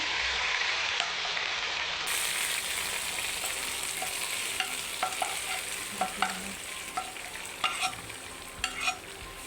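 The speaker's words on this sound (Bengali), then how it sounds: "এই যে এখন বাগার দিব খিচুড়ি হয়ে গেছে প্রায় এই যে বাগার চলতেছে" Whole spices for a baghar sizzle in hot oil while vegetable khichuri cooks nearby, giving a steady dense crackle with a few sharper spits and stirring clicks toward the end, close by and without any talk.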